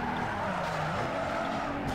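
A drifting car in Need for Speed Underground 2 holds a sustained tire skid over a rising and falling engine note, close and continuous for about two seconds with no talking.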